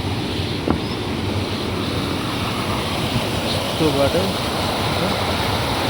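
Glacial meltwater, carrying ice, rushes along a river near a mountain bridge path, a steady broadband roar filling the scene while a person speaks briefly over it.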